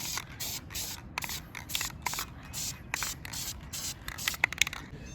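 Spray paint is applied in light coats to a Dodge Charger front bumper, with a series of short, close hissing bursts repeating in an uneven rhythm, and a few sharper clicks toward the end.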